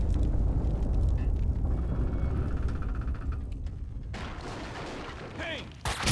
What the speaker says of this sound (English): The building's blowing up.